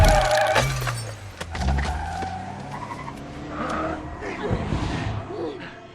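A film scene on a busy road where a car strikes people: tires skid and screech, followed by a loud crashing impact and scattered clatter, with voices in the mix.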